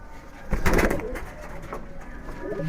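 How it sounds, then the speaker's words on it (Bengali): Giribaj pigeon cooing nearby, a short soft low coo rising and fading over a couple of seconds. "মাশাআল্লাহ, খুব সুন্দর একটা কবুতর।"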